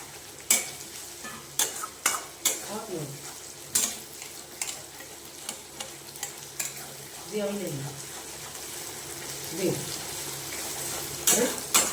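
Ginger-garlic paste goes into a hot pan with cumin and chilli powder for chicken curry, sizzling under repeated sharp scraping and stirring strokes, with a few wet splattering bursts.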